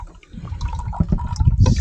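Water runs out of the overflow of a frozen stock water tank in a short, gurgling splash that builds toward the end.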